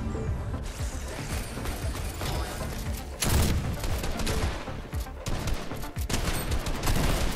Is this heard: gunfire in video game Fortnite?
yes